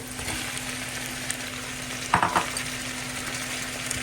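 Saltfish and minced garlic frying in a pot hiss in a steady, moderate sizzle, with a short clatter of stirring or a utensil knock near the middle.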